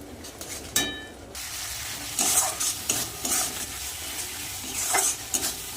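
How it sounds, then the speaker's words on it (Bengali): Spice paste of ground mustard and green and red chilies frying in oil while being stirred, a steady close sizzle broken by repeated scraping strokes and a few clanks of the spoon against the pan, with no talking. "সব মশলাগুলো একসাথে কষিয়ে নেবো"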